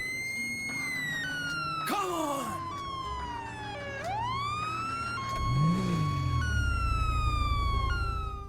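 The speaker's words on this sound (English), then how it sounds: "the sound gets distorted based on how much damage the siren takes" Police car siren in GTA 5 wailing and sweeping through rising and falling tones, growing warped and distorted from damage, with a deep engine-like rumble and revving underneath in the second half; loud and close throughout.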